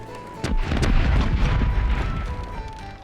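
Ship cannons firing chain shot in the pirate game Corsairs Legacy: a sharp blast followed by heavy, rolling booms that rumble on continuously, loud and close, with no talk over them.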